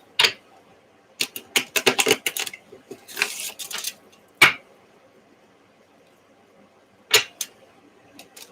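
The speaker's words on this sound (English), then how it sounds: "Shuffle and set these for the collective." Quick bursts of crisp, riffling card flutters and taps, several in a row then sparse single snaps, close and fairly quiet with no talking.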